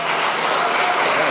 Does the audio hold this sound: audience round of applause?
yes